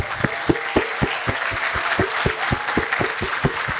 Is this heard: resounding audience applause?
yes